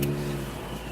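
Stillen supercharged Nissan 370Z engine idling close by with a steady low rumble and faint supercharger whine, no voices.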